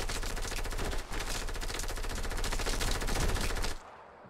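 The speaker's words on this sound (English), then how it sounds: "Oh, I'm getting shot by another guy." Rapid automatic gunfire in Fortnite rattles out in a loud, dense burst lasting several seconds, with a brief break near the start, then stops abruptly.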